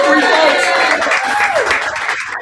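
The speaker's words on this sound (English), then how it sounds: "Give them a round of applause" Guests at a charity cocktail fundraiser clap for donors in a short burst of applause, with talk running over the clapping.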